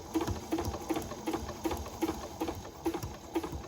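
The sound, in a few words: sewing machine stitching with the regular foot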